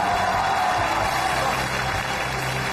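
Steady audience applause fills a TV gala stage at a Liaoning Spring Festival show, a dense, even wash of clapping that holds throughout without pause.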